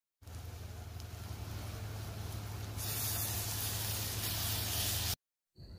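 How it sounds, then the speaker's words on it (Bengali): Marinated chicken pieces fry in hot oil in a pan, a steady sizzling hiss that grows brighter and louder about halfway through, then cuts off abruptly and returns briefly at the end. "কিন্তু ফার্স্ট টাইম চিকেন ভেজে করছি"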